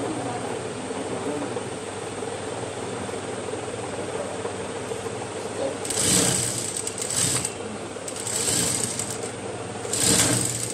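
An electric sewing machine stitches baby trouser fabric in a steady hum, with louder bursts of fast stitching near the end; a faint voice is heard in the background.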